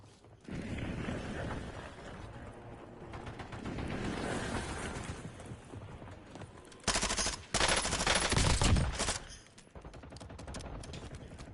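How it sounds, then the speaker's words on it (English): Weapon reloading in Call of Duty Warzone, with mechanical clicks and metallic ratcheting set among loud bursts of gunfire and battle noise, including a sharp, dense burst partway through. "Reloading."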